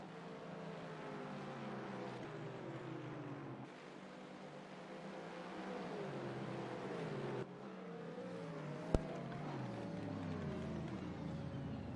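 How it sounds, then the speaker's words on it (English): Several GT3 race car engines in a sim racing game gear down for a slow hairpin at Magny-Cours, a steady layered engine drone with falling pitch sweeps and one sharp click near the end. "Super slow corner as you hear all the engines gear way down."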